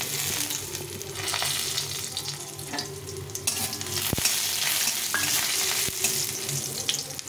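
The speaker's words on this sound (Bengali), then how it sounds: "দিয়ে প্রথমে বড়িগুলো একটু ভেজে নেব" Lentil dumplings (bori) fry in oil in a wok, giving a constant close sizzle with occasional stirring knocks and scrapes, and no voices.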